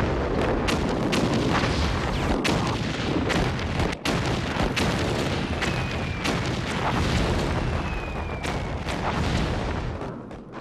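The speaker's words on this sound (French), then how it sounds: "Les obus tombent avec un fracas épouvantable" Continuous heavy World War I artillery bombardment at the Battle of Verdun: deep booms and sharp blasts overlap in a dense, rumbling barrage, with a few whistling shell streaks passing overhead.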